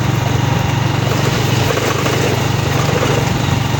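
A motorcycle engine runs during a beginner's riding lesson, giving a loud, close, steady buzzing drone that holds an even pitch throughout.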